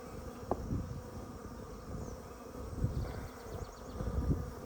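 Honeybees buzz busily around their hive in warm weather, a dense, steady drone close by with individual bees passing nearer now and then.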